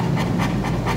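A Mastiff dog pants steadily up close, with quick rhythmic breaths repeating roughly every fifth of a second, loud and continuous with no other sounds.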